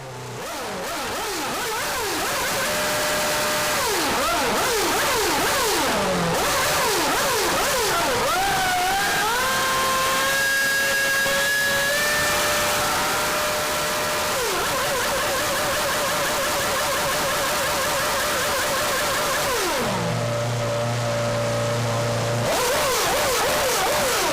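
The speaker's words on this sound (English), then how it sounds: "champion Fernando Alonso says au revoir to Renault and Giancarlo's E-Spec RS26 engine in the traditional manner" Renault RS26 Formula One V8 engine from the 2006 season revving hard and continuously for over twenty seconds, its pitch rising and falling through repeated blips and sustained high-rpm screams, loud and close with no talk.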